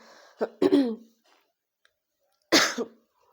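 A person coughs and clears their throat in two separate bursts, close and fairly loud, with a quiet pause between them.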